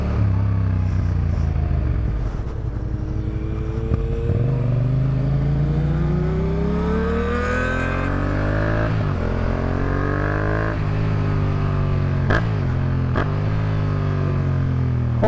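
A brand-new Yamaha FZ-07 motorcycle with a slightly sticky throttle, revved while riding. The engine tone climbs and drops repeatedly through gear changes, loud and close, with a steady buzzing drone and no talking.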